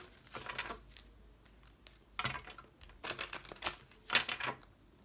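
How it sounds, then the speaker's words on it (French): Tarot cards being shuffled by hand in soft, irregular bursts of papery riffling and flicking, close and fairly quiet with short pauses between. "je mélange encore un peu"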